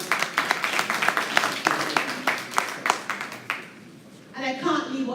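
Scattered, fairly close clapping at a regional education stakeholders' conference, a few distinct hand claps in loose rhythm that thin out and fade, followed by a voice speaking.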